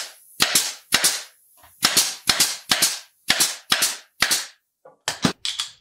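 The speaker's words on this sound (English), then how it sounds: "Now I'm going to finish adding my staples in from the back." A staple gun drives staples into wooden fence pickets from the back while a snowman porch leaner is assembled: about a dozen sharp, loud, close snaps, fired in quick pairs and singles with short pauses, and no talking.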